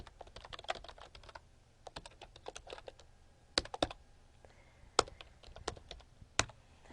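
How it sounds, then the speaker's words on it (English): Computer keyboard typing in a quiet room, a run of sharp irregular key clicks with short pauses and a few louder, harder strikes, close and fairly soft, with no voice over it. "So I can pretty much type that."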